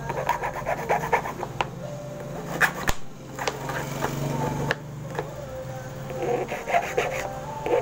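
A new car key is filed by hand with a hand file: uneven rasping strokes, some short and some longer, with brief pauses between them, close up and clear.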